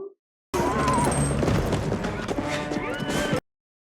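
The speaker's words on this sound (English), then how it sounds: "That's an impressive way to get on a horse." A horse in the film Back to the Future Part III gives a loud, sustained whinny over clattering hooves and a busy movie soundtrack, lasting about three seconds.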